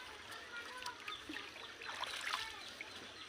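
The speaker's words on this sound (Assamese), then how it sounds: "বৰ্তমান মই নাও লৈ ঘৰত গৈ আছোঁ" A boat pushes through village floodwater near Telamor, with soft water swishing and trickling close by and faint ambient noise; no talk.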